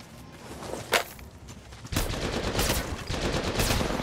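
Gunfire in the mobile battle royale game Apex Legends Mobile: one sharp shot, then a sustained loud burst of rapid automatic fire crackling continuously near the listener.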